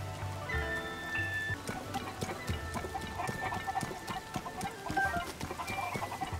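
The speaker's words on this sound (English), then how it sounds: "there's something about the cuckoos moving in the morning" Cuckoo chickens in Zelda: Tears of the Kingdom cluck and chatter in a small group, steady overlapping calls against a soft patter of rain, with no talking.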